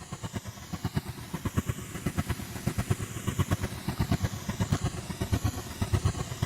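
A rhythmic, train-like synth patch from the Strega instrument pack in Ableton pulses in fast, chugging throbs, a steady mechanical clatter over a dark drone, heard alone.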